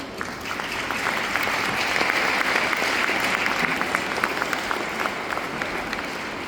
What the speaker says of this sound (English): We need to give Poland a very big round of applause.